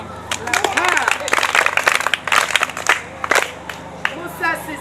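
Children clap for a classmate in a group setting, with bursts of quick, uneven hand claps alongside lively, excited voices and chatter throughout.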